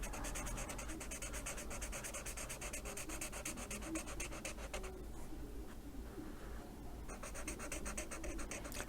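A fine tip marker coloring on paper, heard close up as a steady, faint scratchy rubbing that keeps going, with a brief softer stretch before the strokes resume.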